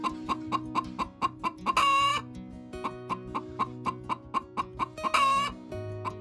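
Chickens on a Finnish countryside farm cluck in a quick, regular rhythm, close by, with two brief louder squawking outbursts breaking in.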